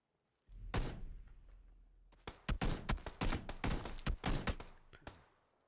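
Rapid bursts of M416 rifle fire in a PUBG gunfight ring out close and loud, one early shot followed after a pause by a dense string of cracks that fade at the end, with no talking.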